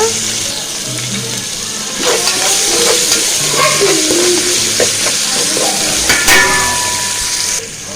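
Garlic paste sizzles loudly in a pan of frying onions, a close, steady hiss broken by the scrape and clatter of stirring, with brief metallic knocks from the utensil.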